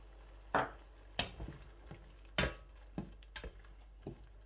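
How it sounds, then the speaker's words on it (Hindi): Green peas go into softened, cooking tomatoes in a pan for pea rice and are stirred. Quiet sizzling swells in a few sharp bursts as the spoon scrapes and moves them, with pauses between, close and low in volume. "अब हम इस मौके पे मटर जो हैं वो ऐड कर देंगे।"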